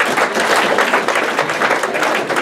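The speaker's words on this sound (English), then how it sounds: "Clap your hands if you're married in here." A live comedy audience claps steadily in a dense, continuous burst of applause, loud and close throughout with no pauses.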